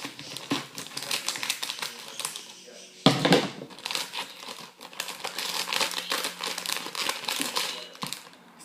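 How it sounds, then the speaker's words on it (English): Plastic packaging of a Popin Cookin takoyaki and odango food kit crinkles and rustles up close as it is cut open, with a sharp snip and busy crackling handling noises throughout. "So first we are going to cut open the package."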